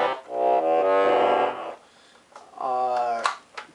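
A black Unico Bass Tenor 41 accordion played with its bass register, giving two sustained reedy chord phrases separated by a short pause, loud and close.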